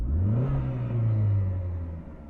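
A Chrysler Neon engine runs near and loud with a slightly uneven, not-so-smooth low drone, its pitch rising and then easing back down slowly as it revs.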